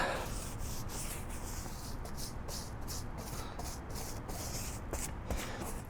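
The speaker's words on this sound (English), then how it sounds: "We are gonna lube it up with more of this bead grease. So you want to get both sides." Bead grease is rubbed onto a new street motorcycle tire, a steady, close, soft scrubbing swish with rhythmic strokes throughout and no talk.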